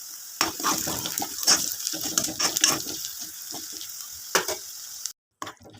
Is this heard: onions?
yes